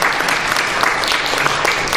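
Attendees at an international fire investigation conference give steady, continuous applause after a presentation, a dense wash of clapping with a few voices underneath.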